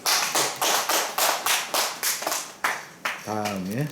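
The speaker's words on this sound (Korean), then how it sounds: "다시 한번 박수." A workshop audience claps during a student presentation: a run of sharp, fairly regular claps close to the room, slightly uneven in strength, before a voice starts speaking near the end.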